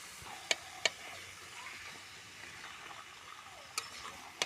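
Meat goes into hot spiced oil in a pan, frying with a soft, steady sizzle while a few sharp clicks and taps of stirring against the pan ring out now and then; no one speaks.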